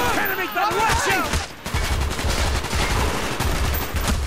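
Rapid bursts of automatic gunfire crackle through a Call of Duty Black Ops combat mission, loud and close, with a brief lull midway before the shooting resumes densely; shouted voices and other battle sounds mix in.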